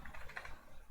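Keys tapped rapidly on a computer keyboard, a short close burst of quick irregular clicks with no voices.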